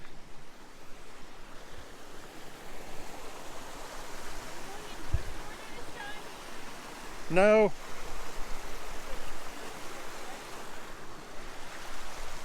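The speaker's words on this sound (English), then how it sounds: "so there's the waterfall" Steady rushing water of Cascade Falls in Rocky Mountain National Park roars throughout, a constant broadband wash, with a brief high chirp cutting through about midway.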